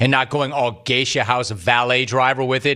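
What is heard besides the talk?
No everyday noises stand out.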